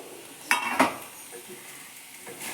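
Fish frying in a pan while being stirred, two sharp scraping clinks over a soft, steady sizzle.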